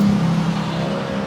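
A motor tricycle running nearby, a steady low engine drone with a slight hum, fairly loud and without talk.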